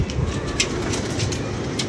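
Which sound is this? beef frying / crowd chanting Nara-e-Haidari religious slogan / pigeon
pigeon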